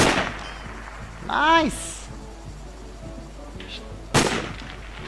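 A single sharp sniper rifle shot rings out late in Sniper Ghost Warrior on PC, sudden and loud against quiet game ambience, after a brief excited spoken exclamation.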